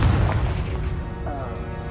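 The Confringo spell from the Hogwarts Legacy video game explodes in a dense, loud booming burst that rumbles on for the whole moment, with a voice shouting over it.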